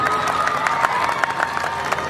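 Audience applause at a live comedy show in Nepal: a crowd clapping steadily, with individual claps standing out in a quick, slightly uneven rhythm, moderately loud.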